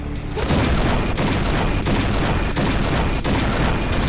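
Barrett sniper rifle fire in the Point Blank online shooter game, with a crooked, off-target aim. Loud, dense gunfire runs throughout, with sharp heavy shots punching through roughly every half to three-quarters of a second.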